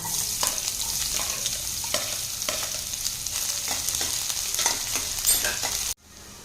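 Finely chopped onion sautéing in a pan with cloves and cinnamon for a mushroom and pea soup, a steady close sizzle with light stirring scrapes, ending abruptly, no talking.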